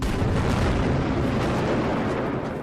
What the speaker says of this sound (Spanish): Las líneas taladradas dirigen con precisión la fuerza explosiva,